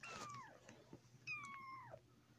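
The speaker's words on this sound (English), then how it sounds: "Hi, kitty." A cat meows twice, two drawn-out falling cries close by, with a low steady hum underneath and a brief pause between calls.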